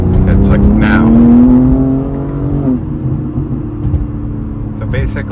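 A BMW G80 M3 fitted with a JB4 tune accelerates with a deep, rising engine drone. The pitch climbs and then eases into a lower cruising hum, with a voice talking over it.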